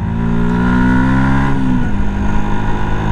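A motorcycle engine drones loudly and steadily while riding on a cold day, the pitch sliding down as the revs drop midway, with wind rumble underneath.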